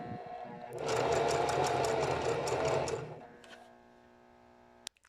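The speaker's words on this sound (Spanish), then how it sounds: "ahora sí vamos a sujetar con zigzag. Y lo mismo, le vamos a dar varias pasadas para poder asegurar esa costura." A sewing machine runs a zigzag stitch along a bralette seam, a fast rhythmic mechanical chatter lasting about two seconds before winding down, followed by a small click.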